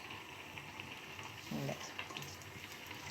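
Raw banana slices fry in hot oil, a steady, close, soft sizzle with light crackles and a brief louder bubbling burst as more slices drop in.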